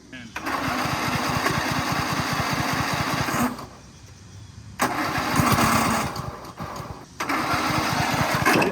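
A Toro zero-turn mower engine runs unloaded at full throttle with nothing powered, a loud close buzzing drone that drops away briefly twice before surging back, with people talking over it.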